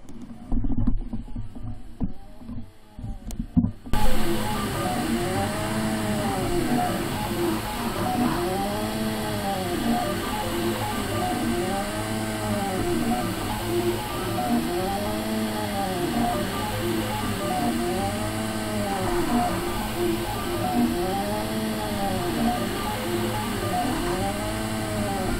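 A Prusa i3 MK2S 3D printer hums and whirs steadily, its stepper motors sweeping up and down in a repeating rhythmic pattern, close by and moderately loud.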